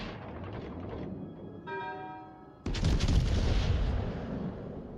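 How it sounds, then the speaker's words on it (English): Battleship main guns fire a salvo in World of Warships Legends, with a bright ringing tone and then a sudden loud, broad boom that rumbles on for about two seconds. "that was a waste of a salvo"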